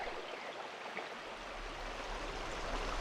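Willow Creek flowing on a bright autumn day among cottonwoods, a steady broadband rush of running water, fairly close and continuous, with a faint breezy texture and no voices.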